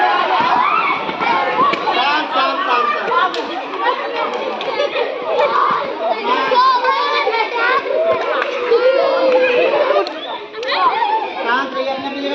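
A tightly packed crowd shuffles forward together during a stampede safety drill, a dense, continuous din of many overlapping voices, children's chatter and footsteps, loud and close throughout.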